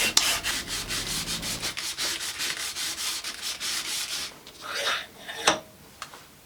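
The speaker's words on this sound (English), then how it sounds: "now I need to spend the rest of the day sanding these down" Camera slider parts are sanded by hand, with rapid rhythmic rasping strokes for a couple of seconds, then slower, scattered rubs and a few light knocks, close and fairly quiet.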